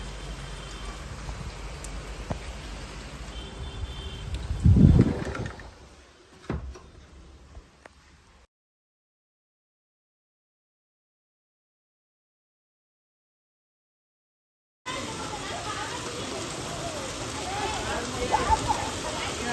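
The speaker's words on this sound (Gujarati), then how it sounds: "ત્યાં પણ વરસાદ આવી રહ્યો છે." Steady rain falls on an open plot outside a home during the season's first rain, a soft continuous patter with a few thuds, broken by a long stretch of silence before the hiss resumes.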